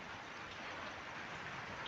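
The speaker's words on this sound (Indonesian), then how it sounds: "cuaca sudah gerimis" Light drizzle falls late at night, a soft, even, continuous hiss of rain, faint and steady without a break.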